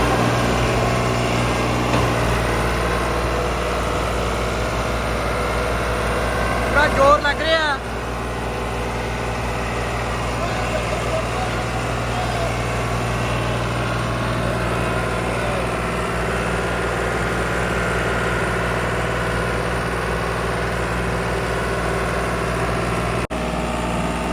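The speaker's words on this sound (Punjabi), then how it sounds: "ਦੇਖੋ ਲਓ ਜੀ ਟਰੈਕਟਰ ਤੁਰਨ ਲੱਗਿਆ" A 5620 tractor runs with a steady, close engine drone throughout, hauling a trolley loaded with about 440 bags, with a brief rougher surge early on before the engine settles back into its even running note.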